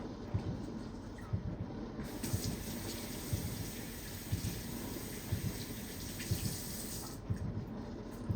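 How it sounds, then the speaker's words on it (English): Hot water tap of a Breville Barista Express BES870 espresso machine running: a steady rushing hiss of water for about five seconds, starting and stopping abruptly, fairly close and on its own. "You can also rinse it by using the hot water tap."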